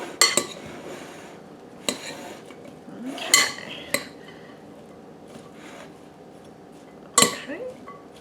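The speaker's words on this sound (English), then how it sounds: "Okay, we're going to mix this up." Sliced garden cucumber and onion tossed together in a bowl for freezer pickles, with several sharp utensil clinks and scrapes against the dish spread between quieter mixing rustles.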